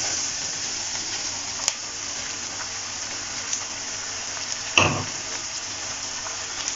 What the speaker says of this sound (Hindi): उतनी देर में मैंने टमाटर भी ग्रेट कर दिया है, अब वो भी इसमें हम शामिल कर देते हैं।